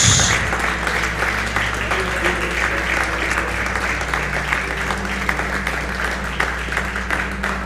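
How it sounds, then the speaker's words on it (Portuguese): A church congregation applauds together at an evening service, a dense, steady wash of clapping that fills the room, continuous and fairly loud, with faint voices mixed in beneath it. "Vamos aplaudir o Senhor mais uma vez."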